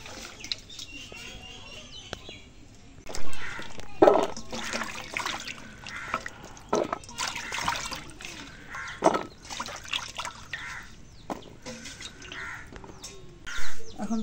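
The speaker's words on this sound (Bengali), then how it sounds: "মিষ্টি কুমড়াটা এখন ধুয়ে নিই" Cut pieces of sweet pumpkin are swished and rinsed in a pot of water in a home kitchen while preparing khichuri, with irregular splashes, trickles and sloshing bursts up close.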